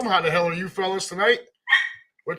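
A dog yelps briefly after being stepped on, a short sharp cry heard after someone speaks in a room.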